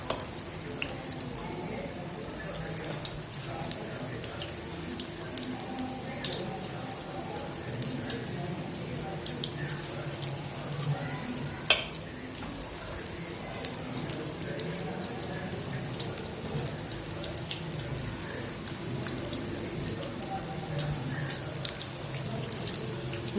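Spinach pakora batter dropping into hot oil for frying, a dense, even sizzle and crackle that runs the whole time with only small spikes and no voices.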